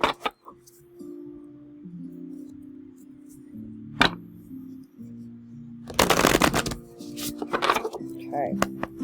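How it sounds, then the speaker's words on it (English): A burst of cards riffle-shuffled up close, a dense fluttering rattle lasting a couple of seconds, with a hum in the background and a few soft handling clicks. "Shuffle 3 times."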